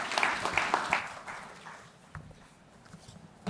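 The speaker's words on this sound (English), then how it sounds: "A round of applause for her," Audience applause at a forum on urban forests, a short burst of clapping that fades away over a few seconds, moderately loud and somewhat distant.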